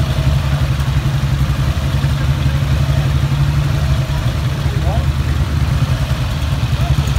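A 1954 BSA 500 four-stroke single motorcycle, a former scrambler now roadster, idles loudly and close at a classic vehicle run, a steady low thumping engine note throughout with faint background noise.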